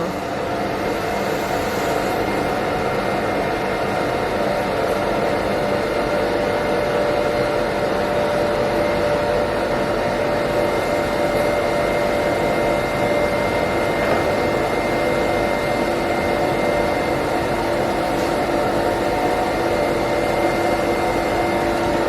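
A 50L vacuum emulsifying machine runs with its vacuum open, giving a steady, loud mechanical hum and whine with a constant tone throughout, no speech over it.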